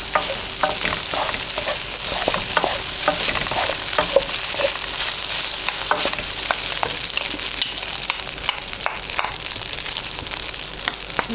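Rice being stirred and fried in a pan for tapsilog, with steady close sizzling and repeated scraping strokes of the spoon throughout, no talking.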